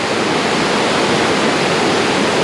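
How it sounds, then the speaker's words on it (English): Baby Falls near Tellico Plains, Tennessee, roars as hard-churning water pours down, a dense, steady rushing wash that stays loud and unbroken throughout. "That water is churning hard."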